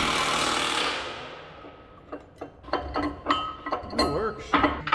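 A big wrench ratchets on farm equipment, with a run of sharp metallic clicks and clanks close by, partly alone and partly mixed with clinks of metal parts.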